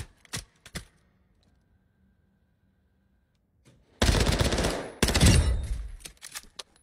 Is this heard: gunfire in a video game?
yes